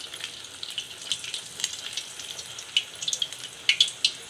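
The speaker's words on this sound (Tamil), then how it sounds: "தட்டிட்டு இப்படி எடுத்து எண்ணெயில் விடுங்க." Banana flower vadai fry in hot oil, a quiet bubbling sizzle with small crackles and pops that grow brisker over a few seconds.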